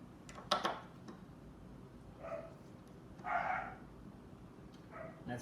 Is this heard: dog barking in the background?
yes